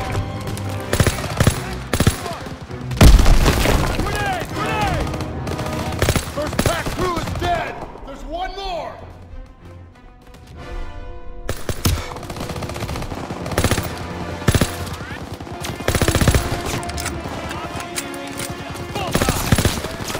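Heavy WWII gunfire in a Call of Duty battle: sustained machine-gun bursts and rifle shots crackle near and far, with explosions and brief lulls, while voices shout in the background.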